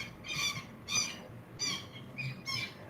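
A southern lapwing gives five harsh, squawking calls in quick succession, fairly close and clear above a low, steady background rumble, with no talking.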